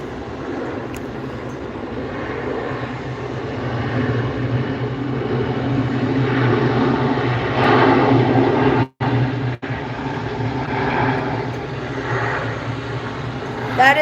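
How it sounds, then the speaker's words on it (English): An American Airlines Airbus A320 comes in to land, heard as a steady, loud, broad roar of jet engine and rushing air that holds for the whole stretch, with one brief dropout partway through. "That is an American Airbus A320."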